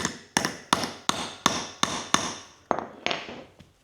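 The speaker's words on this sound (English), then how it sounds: "I'm going to take a block of wood and a hammer, and I'm just going to put a slight bend in those hinge pins" Hammer strikes on a hinge pin set against a block of wood, about nine sharp, evenly spaced blows close by, each ringing briefly before the next, the last few lighter.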